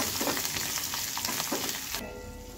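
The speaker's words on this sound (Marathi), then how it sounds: "आणि मिरचीचे काप. हे सर्वांना तडकू द्यायचं" Coriander and sliced green chillies crackling in hot oil for a tadka for Amritsari chole, a dense close sizzle with popping bursts that softens toward the end.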